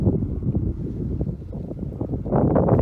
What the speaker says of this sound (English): Sorry about the wind, folks.